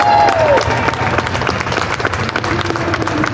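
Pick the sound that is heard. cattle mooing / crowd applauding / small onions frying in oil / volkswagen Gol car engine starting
crowd applauding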